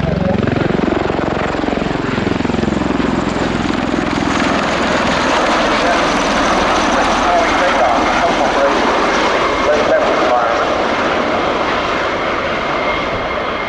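The engines and rotors of a CV-22B Osprey tilt-rotor aircraft give a loud, continuous, close-up roar with a rising whining drone that holds steady throughout.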